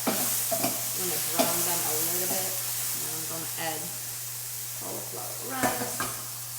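Chopped veggies browning in a frying pan, a soft continuous sizzle with occasional scraping and stirring clatter, close by, over a steady low electrical hum.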